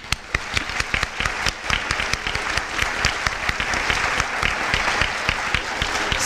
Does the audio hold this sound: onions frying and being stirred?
no